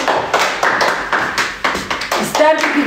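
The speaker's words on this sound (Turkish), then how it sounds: "Hadi alkışlayın." A few people clap hands unevenly at a farewell gathering in a home, sharp close claps in an irregular rhythm with some voices and thumps mixed in.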